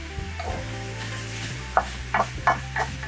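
Humba, Visayan braised pork, sizzles in hot oil in a pan over high heat, a steady fry with a few sharper crackles and spatters near the end, close and fairly quiet, no talking.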